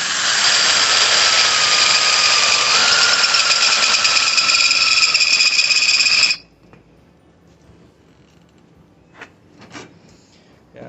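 A power drill with a worn 3/8-inch bit whines steadily and loudly for about six seconds while boring a hole, then stops abruptly, leaving quiet room noise with a few faint clicks.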